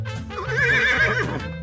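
Horse neigh played as a sound effect during a picture book read-aloud, one loud close whinny with a wavering, trilling pitch lasting over a second.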